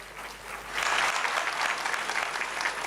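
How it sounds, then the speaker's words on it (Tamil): An audience at a Chennai Doordarshan golden jubilee celebration breaks into applause, the clapping swelling after a moment and continuing steadily as a dense, sustained patter. "அவர்களுக்கு பலத்த கைகரகோஷத்தை நாம் அளிக்கலாம்."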